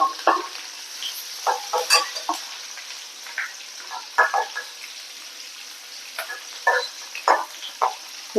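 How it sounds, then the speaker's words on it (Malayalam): Garlic, curry leaves and green chillies crackle in hot oil for a Kerala tapioca stir-fry, close bursts of sizzling and popping coming in irregular clusters, with no voices over them. "നമുക്കിതിലേക്ക് വെളുത്തുള്ളി ഇട്ട് കൊടുക്കാം കുറച്ച് കറിവേപ്പില പച്ചമുളക് രണ്ട് പച്ചമുളക്"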